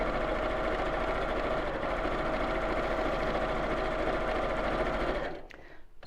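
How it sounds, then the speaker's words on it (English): A sewing machine runs steadily at close range, stitching fabric layered with fusible fleece in one continuous loud whirring burst that stops abruptly near the end. "then I'm just going to sew again about ½ an inch in, or just up to the edge of that fusible fleece"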